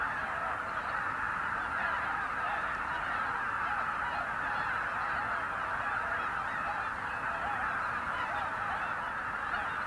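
A large flock of greater white-fronted geese honks at Lake Miyajima in Hokkaido, Japan, a dense, continuous chorus of overlapping calls from many birds at middle distance. The din is steady throughout, with no talking.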